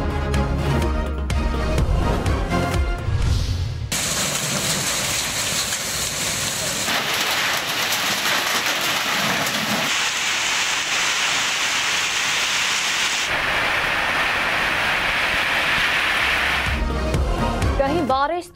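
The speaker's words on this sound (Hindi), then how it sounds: "पेशावर और कोहाट में मूसलाधार बारिश" Torrential downpour in Peshawar and Kohat, Pakistan, a loud, constant roaring hiss of heavy rain lasting throughout, with music-like news sounder at the start and end.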